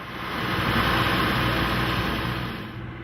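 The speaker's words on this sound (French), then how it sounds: "Notre vaisseau est équipé d'un moteur Mercedes 4 cylindres diesel." A Mercedes four-cylinder diesel engine runs aboard a riverboat on the Niger, a steady, even drone with a hissing wash over it, moderately loud throughout and no voices.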